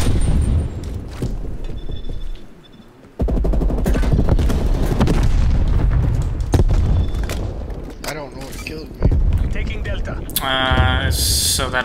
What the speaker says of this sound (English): So that explosion, I think, is a proximity mine.